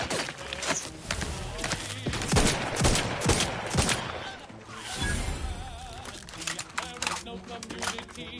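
Rapid bursts of gunfire and fusillades from the video game The Outer Worlds 2 crackle densely throughout, with voices speaking over the combat.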